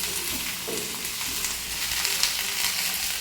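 Vegetables and lentils for a mixed mung and masoor dal fry in a pan, including cauliflower, sweet pumpkin, long beans and tomato. A steady, loud, close sizzle runs throughout, with no speech.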